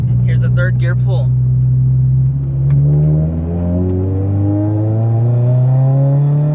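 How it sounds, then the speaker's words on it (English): A turbocharged Subaru BRZ on a dyno winds up through third gear, its engine note climbing steadily and loudly from a low drone, with a voice briefly heard at the start. "Here's a third gear pull."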